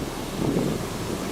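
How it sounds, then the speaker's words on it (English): Powerful ocean waves crashing onto the shore at Cabos: a continuous broad roar of surf mixed with heavy wind buffeting on the microphone, with a brief swell in the middle and no talking. "powerful waves crash onto the shores of Cabos, showing the raw power of the ocean"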